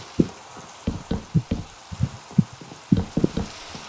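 Rain falls in Minecraft, a steady soft hiss with irregular patters and low thuddy drops scattered throughout, fairly close and with no talk over it.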